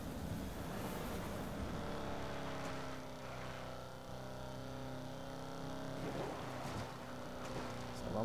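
A Shelby Cobra 427 V8 in the racing game Need for Speed Most Wanted drones steadily with layered harmonic engine tones, swelling briefly as revs climb, with faint talk underneath.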